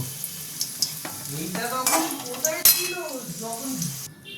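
Raisins fry lightly in a pan for chire polao, a soft sizzle with stirring scrapes and utensil clinks beneath someone talking throughout.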